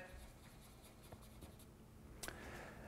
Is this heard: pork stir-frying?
no